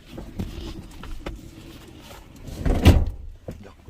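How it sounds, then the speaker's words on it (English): A quiet rumble and light rattling lead into a heavy sliding thunk as a Toyota Previa minivan's sliding door rolls shut, followed by a short settling knock. "let's go on the inside and see if we can shut this door"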